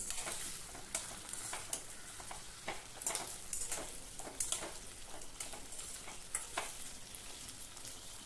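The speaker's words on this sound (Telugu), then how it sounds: "గ్యాస్ మీడియంలో పెట్టి చక్కగా దొండకాయలు వేపుకోండి." Ivy gourd (dondakaya) pieces frying in oil in a pan on medium gas heat, a steady faint sizzle with repeated scraping stirs at an irregular rhythm, no talk.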